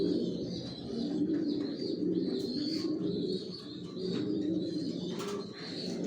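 Many pigeons coo together in a loft, a continuous low, rolling murmur at moderate volume with occasional faint chirps and no voices.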